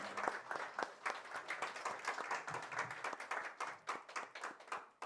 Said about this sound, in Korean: 나오실 때 큰 박수로 맞이해주시기 바랍니다